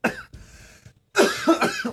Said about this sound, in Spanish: Me cago en la tos.